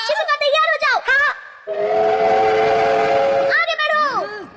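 A cartoon train in Doraemon's human railroad set gives a long steady whistle blast, loud and close, with animated character voices chattering before and after it.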